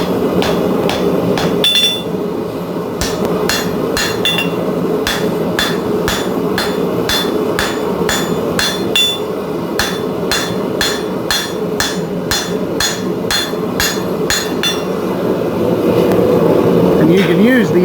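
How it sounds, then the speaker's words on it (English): A hammer strikes blade steel on an anvil during forging, with loud, rapid, regular metallic blows repeating close by over a constant background roar while a person talks. "You can put your material on there, use your hammer to hit that"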